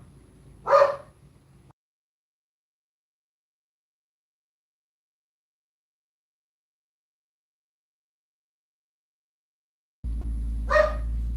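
A dog barks once at the start and again after a long silence, each a single short bark at moderate distance.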